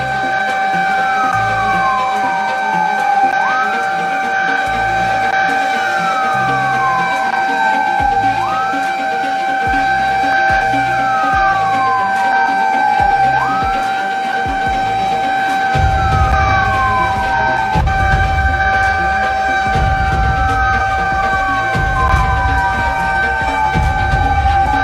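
A fire truck siren wails loud and close on a road, its tone sweeping down and back up in repeated cycles of a few seconds each over rumbling traffic and engine noise.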